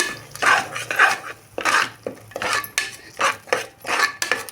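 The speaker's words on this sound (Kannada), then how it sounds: "ಸ್ವಲ್ಪ ಗರಂ ಮಸಾಲೆ ಹಾಕ್ಕೊಳ್ಳೋಣ ಹಾಕಿ ಎಲ್ಲ ಫ್ರೈ ಮಾಡ್ಕೊಳ್ಳೋಣ" Garam masala with other ground spices being stir-fried in a pan for egg palak rice, a rhythmic series of metal spoon scrapes and clinks against the pan, repeated in steady strokes close up.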